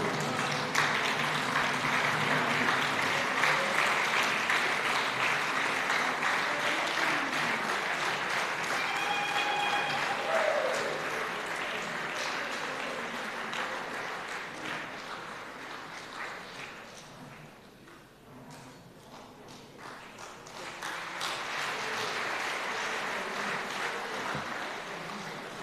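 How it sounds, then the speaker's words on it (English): Sustained applause from an audience at a district awards function, a dense wash of many hands clapping that swells, dips midway and picks up again, heard from a distance with a brief tone over it. "Can you all stand up and give her a round of applause"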